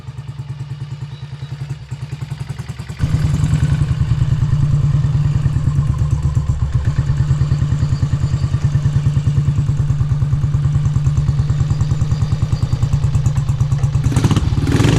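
A 1967 BSA motorcycle engine is kicked over, with a short scuffing effort before it catches into a loud, steady, close thumping run that holds to the end.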